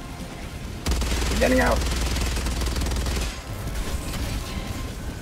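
Automatic gunfire in Helldivers 2, a sustained loud burst lasting a few seconds then cutting off, with a player talking over it.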